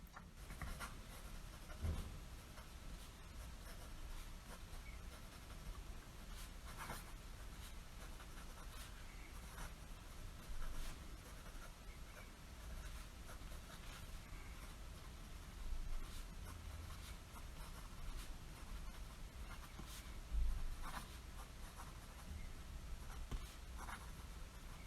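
Faint, scratchy nib strokes from a vintage Sheaffer Triumph GT 556 fountain pen filled with Iroshizuku Konpeki ink, writing on paper in quiet, irregular bursts over a soft background hiss.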